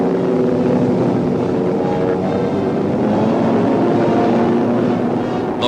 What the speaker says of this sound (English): Towed by a transport, the glider goes aloft.